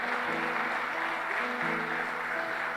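A church congregation applauds steadily and continuously at a close, full level, the clapping blending into a dense wash, with some musical tones sustained underneath.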